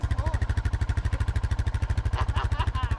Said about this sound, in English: She got that Honda shifting down, don't she?